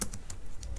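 Computer keyboard typing during a Shopify theme development setup, a few quick key clicks in a short burst, close and fairly quiet, with no talking.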